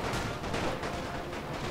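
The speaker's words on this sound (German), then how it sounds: "da krachen die meisten Schüsse auf den Berg hier rein" Dense gunfire and artillery shots from the war strategy game Napoleon: Total War (The Great War mod) crackle continuously, a loud unbroken rattle of overlapping musket volleys and booms with no talk.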